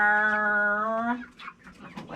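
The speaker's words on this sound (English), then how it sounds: "believe these are Cochin chickens. We also have Brahmas." Cochin and Brahma chickens on a farm give a long, loud, drawn-out harmonic call for about a second, followed by softer scattered clucks and rustling.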